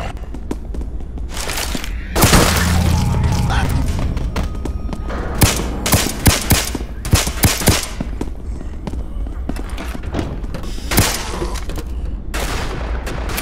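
Gunfire in the video game Left 4 Dead 2 on Realism Expert difficulty, with a dense burst of shots around two seconds followed by scattered loud single and double shots and thumps over constant background game noise.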